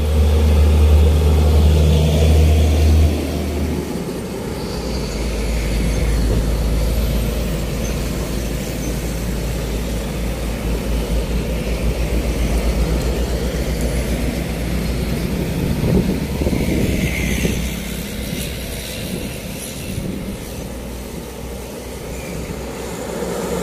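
Mitsubishi Canter truck rounding a bend, its diesel engine droning loudly up close at first, then settling into a steady rolling rumble that swells and fades as it passes through the curve.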